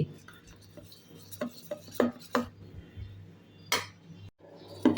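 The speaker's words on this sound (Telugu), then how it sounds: "ఒక గంట తర్వాత పిండినంతా ఒకసారి బాగా కలుపుకోవాలి" Dosa batter stirred by hand in a vessel, with soft wet scrapes and intermittent clinks of a utensil or bowl, close and moderately loud, in a quiet kitchen.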